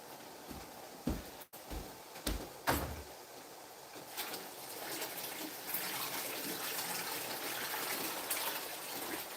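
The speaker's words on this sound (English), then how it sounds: "I'm going to pour the water off of these." Water pours off a pot of boiled tomatoes into a sink, a steady rushing gush after a few clunks and knocks of handling the pot, close and continuous.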